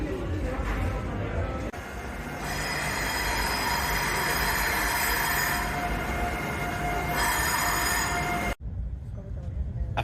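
A high-speed train runs along rails in Spain, a steady loud rolling rumble with rising whine and brief squealing, cut by a sharp break near the end; no speech over it.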